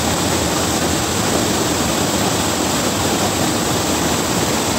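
Heavy rain from an atmospheric river storm in Abbotsford, British Columbia, Canada, a dense, loud and unbroken roar of downpour with no pauses and no voices.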